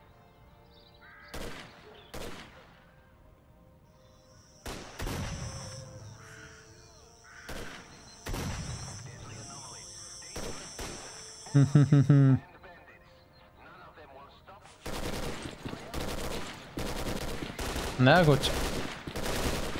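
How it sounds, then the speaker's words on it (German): Repeated gunfire from the S.T.A.L.K.E.R.: Clear Sky video game, sharp reports in scattered bursts and volleys across the scene, mixed with talk and other game sounds. "Was ist denn das für ein permanentes Geballer hier?"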